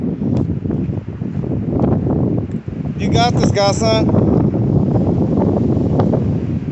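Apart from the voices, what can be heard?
wind blowing into the microphone outdoors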